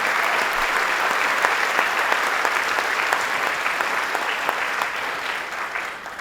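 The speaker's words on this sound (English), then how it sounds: "Let's give him another round of applause," Audience at a government announcement event for a solar factory complex applauding, a sustained, full crowd clap that holds steady and loud before tapering slightly at the end.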